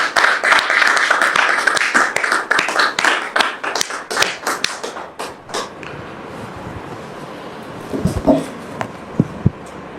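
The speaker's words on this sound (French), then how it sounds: "de la recevoir sous vos applaudissements" An audience applauds to welcome a guest onstage: dense, loud clapping for about five seconds, then thinning out into a few scattered claps and quieter room noise.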